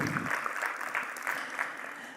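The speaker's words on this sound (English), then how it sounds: "Let's give Brian a warm round of applause to welcome him as well" Conference audience applauding to welcome a panelist at an industry event, moderate clapping from a crowd that fades slightly as it goes on.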